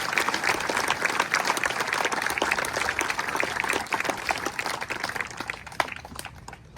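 Audience at an outdoor Memorial Day ceremony in Beach Haven, New Jersey, applauds in a steady, dense round of clapping that gradually fades toward the end.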